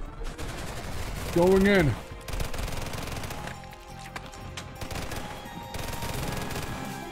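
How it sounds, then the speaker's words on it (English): SMG fire in the first-person shooter Wrought Flesh, short bursts of rapid shots mixed with game effects and a swooping tone, while a player talks over the action. "Tactical SMG style."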